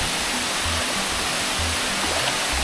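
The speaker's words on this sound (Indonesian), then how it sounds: "itu kita langsung kena tetesan air terjun ini teman-teman" A waterfall roars near a small river crossing, a steady, dense rush of falling water filling the whole clip with no pauses and no voices.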